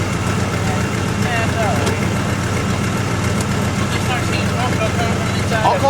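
A 1974 Dodge engine idles after a cold start, a steady, fairly loud rumbling idle with a slight uneven knock, running continuously close by while voices occasionally talk over it.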